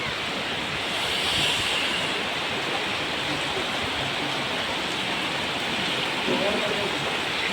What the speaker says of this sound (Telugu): సో బయట వాన చూపిస్తారండి. ఓ మై గాడ్ ఎంత వాన,